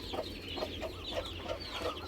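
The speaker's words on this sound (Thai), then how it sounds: "เป็นพ่อจรวดนะครับ ลูกลูกไก่ชุดนี้นะครับ" Chickens at a Thai fighting-cock farm cluck in a steady, close rhythm, about six short clucks in two seconds, with no talking.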